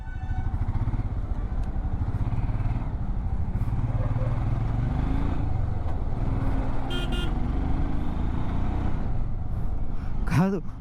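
Road traffic jam on the Hyderabad to Kadapa route, a dense churn of motorcycle and car engines idling and revving close by, with occasional horn toots and a brief high squeal near the end, light talk underneath.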